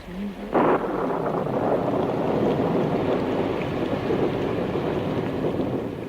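Wind blows in a strong, steady rush, with a gusty roar buffeting the microphone almost throughout after a brief quieter start, and no voices.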